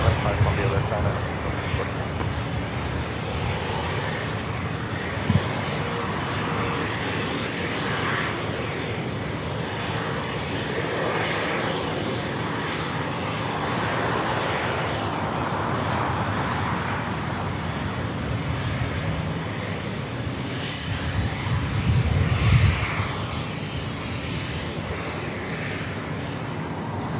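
A Cessna Citation Longitude business jet at Los Angeles International Airport gives off a long, steady engine whine and rumble at moderate distance, with soft radio voices underneath and a brief swell near the end.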